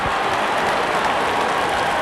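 A cricket stadium crowd applauds and cheers a wicket with a steady, dense roar of clapping and voices, loud and continuous, no commentary over it.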